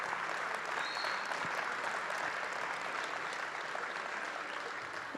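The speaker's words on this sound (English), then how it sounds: "a round of applause for everybody on the sim team that makes this happen" An audience at the 2022 National SIM Competition applauds for the simulation team, giving dense, sustained clapping that stays steady and fairly close before easing slightly near the end.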